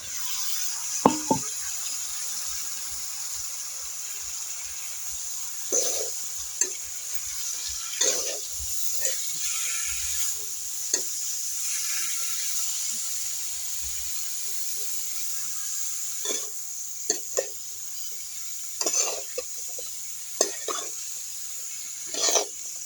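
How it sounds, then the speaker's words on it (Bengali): Onion, garlic and chopped beetroot fry in a pan with a steady close hiss and sizzle, broken by intermittent scraping stirs of a spatula against the pan. "পেঁয়াজ রসুন এইটটি পার্সেন্ট ফ্রাই করে নিয়েছি এবার কেটে রাখা ভাজির দিকটিকে দিয়ে দিবি"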